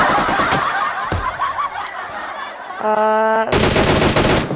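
Rapid automatic gunfire bursts in a PUBG Mobile match, loud and close, with a sustained tonal game sound and a final dense volley, amid game audio and background voices.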